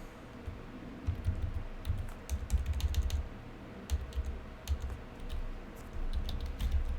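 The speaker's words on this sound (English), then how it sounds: "If I could type here." Typing on a computer keyboard, close and fairly quiet, with irregular bursts of key clicks and brief pauses, keys tapped steadily with no speech over them.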